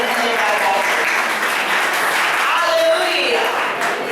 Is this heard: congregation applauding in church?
yes